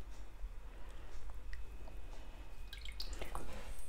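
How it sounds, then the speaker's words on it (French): Sandwich bread soaked in milk drips and squishes softly close by, with small wet drops falling at an uneven pace. "je trempe mon pain de mie en fait dans le lait"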